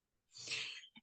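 A single sharp sneeze bursts out, followed by a brief sniff or breath, close and fairly quiet, with no talking.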